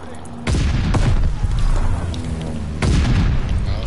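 A bomb goes off in Call of Duty Vanguard Zombies: two heavy, booming blasts close by, each with a thick low rumble that holds and rolls on, over steady game background noise.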